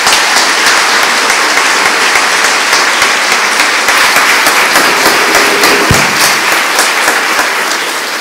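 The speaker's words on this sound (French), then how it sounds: "Je vous demanderai de les applaudir." Sustained audience applause fills a gala hall, steady and loud throughout with dense clapping from a large crowd, tapering slightly at the end.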